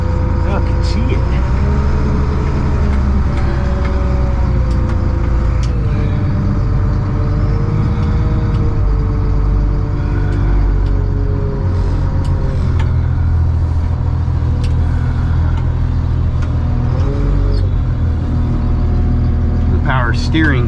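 An old bucket truck with misbehaving power steering runs as a loud, steady engine rumble, with wavering whine-like tones rising and falling over it and a voice speaking now and then.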